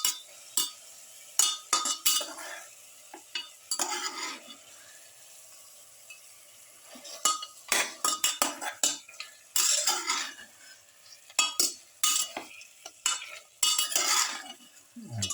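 Lamb ribs are tossed into a spice mixture in a bowl, giving intermittent close scraping, clinking and wet mixing bursts separated by brief quiet gaps.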